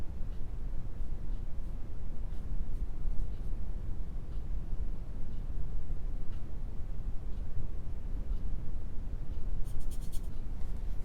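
A brush scrubs purple oil paint onto canvas while sketching, a continuous close dry scratching and rubbing texture that runs steadily throughout with no talking.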